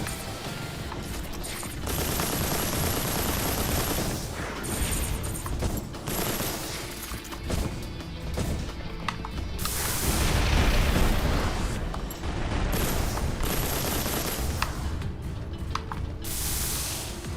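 Missiles and gunfire from the robot combat game Mass Builder make a dense, loud barrage of blasts and bursts, with a heavier boom near the middle, sustained with no break.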